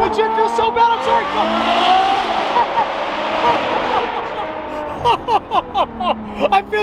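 A Ferrari fitted with an FI exhaust revs loudly, with a sustained howling, climbing engine note, then a string of sharp, rapid blips and pops toward the end.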